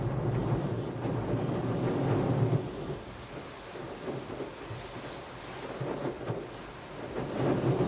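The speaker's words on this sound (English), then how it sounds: "This is what it looks like if you park under one of those when the rain's falling that hard." Heavy rain pours hard from a gas station canopy drain during a tornado storm in Fort Worth, Texas, a loud, steady rushing splatter with low rumbling wind that swells and eases.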